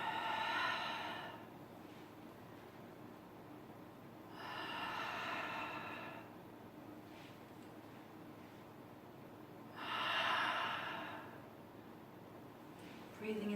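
Deep, slow breaths come during a guided breathing exercise, with three long airy inhales or exhales spaced several seconds apart over a faint steady background, close to the microphone.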